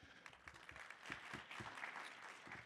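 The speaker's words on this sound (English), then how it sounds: "So a round of applause to you." Faint applause from an awards ceremony audience, a short patter of scattered clapping heard from a distance.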